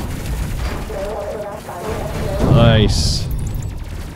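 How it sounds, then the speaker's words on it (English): Explosions burst repeatedly in the Space Crew video game, a dense run of booms and blasts that swells louder midway, with people talking over the gunfire-like din. "There's just explosions everywhere."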